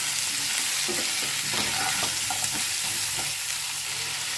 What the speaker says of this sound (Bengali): লবণটা দিয়ে আবার একটু নেড়ে নিচ্ছি